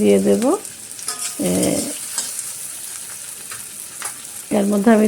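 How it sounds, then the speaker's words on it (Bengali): Onions and slit green chillies stir-frying in a pan, a continuous sizzle under several brief bursts of a voice, with light stirring scrapes throughout. "এখন আমি বেশি করে দিয়ে দিচ্ছি চেরা কাঁচা লঙ্কা। তো এটাকেও একটু হালকা নেড়ে নেব, নেড়ে ভেজে নিয়ে"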